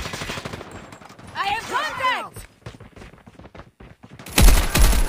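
Bursts of rapid automatic gunfire from a Call of Duty Mobile sentry gun, with clattering shots early and a loud, dense volley at the end, while someone talks over the game.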